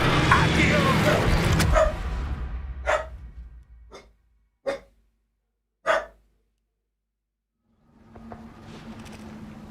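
A dog in the video game Hogwarts Legacy gives four or five sharp, separate barks at close range, spaced irregularly. They follow a loud, busy stretch of game noise, with quiet gaps between barks before ambient sound returns.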